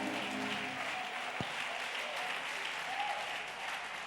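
A church congregation claps together in acclaim of the Lord, a steady, dense wash of applause from a large crowd holding at even loudness throughout, with no voices standing out.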